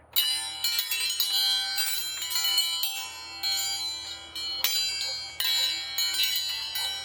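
Brass spoon wind chimes ring and jangle in irregular clusters, bright tinkling tones overlapping and fading, with no talking.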